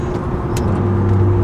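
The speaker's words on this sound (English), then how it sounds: "Exhaust is always back there, and you can hear it through the carbon trunk." A BMW E90 335i exhaust drones steadily from the back of the car through a carbon trunk, a low, continuous rumble heard from inside the cabin with no talk.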